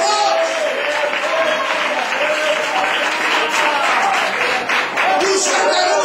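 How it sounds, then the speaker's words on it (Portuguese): A church congregation applauds with dense, sustained clapping that fills the room evenly and keeps a constant level throughout. "Para aplaudir o nome do Senhor dos exércitos!"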